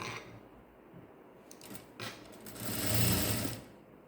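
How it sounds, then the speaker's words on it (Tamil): A sewing machine stitches a hand (sleeve) design in fabric with lining cloth, a steady close whirring run that swells louder toward the end, with no talking. "இப்போ நான் இந்த தையலை தைக்கிறேன் பாருங்கள்."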